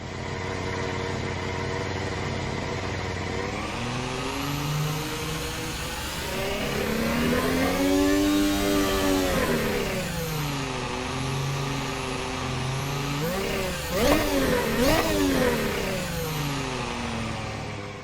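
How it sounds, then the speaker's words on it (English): Formula 1 race car engine idling in a modded F1 2021 racing game, a steady burbling drone that swells and dips with light blips of revs, heard alone without any talk. "I'm now going to leave you guys to listen to the engine, because even the idle sound is pretty sweet"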